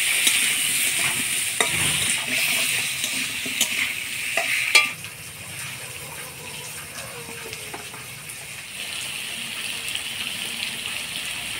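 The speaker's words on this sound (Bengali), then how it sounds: "ফোড়নের তেলে আলুটা ভাজা ভাজা করে নিছি" Potatoes sizzle steadily in spice-tempered oil with turmeric and salt, a spoon scraping and stirring the pan in bursts of clatter that ease off after a few seconds, leaving an even, close frying hiss.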